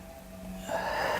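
One slow, soft inhale from a person breathing in deeply during a core and pelvic floor exercise, quiet at first and swelling midway, close to the mic.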